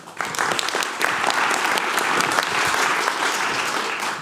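An audience breaks into applause for an arriving guest at a talk event, crisp individual claps building quickly into steady, moderately loud clapping that holds throughout.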